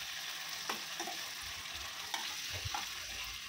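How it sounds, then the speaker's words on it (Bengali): Chicken pieces with spices frying in a pan for biryani, a steady close sizzle with a few soft scraping stirs as the meat is turned, no voices. "এপিট ওপিট করে যাতে সুন্দর মশলাগুলো ঢুকে আর সেদ্ধ হয়ে যায় ভালোভাবে"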